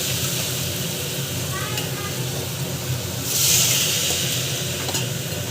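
Vegetables sautéing in a pan for a simple home-cooked dish, a steady loud sizzling hiss with scraping stir sounds and a brief surge of steam partway through.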